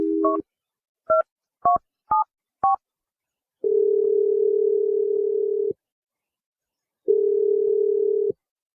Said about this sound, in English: let's dial Gina's phone number and see if she answers